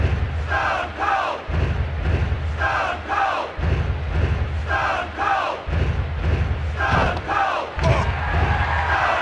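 A large arena crowd in a wrestling video game (WWF War Zone, PS1) roars and chants in repeating waves, a loud rhythmic cheer rising and falling about every couple of seconds.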